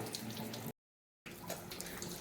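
Water runs from a tap in a home kitchen as a soft, steady hiss and trickle, heard faintly with a brief silent break partway through and no talk.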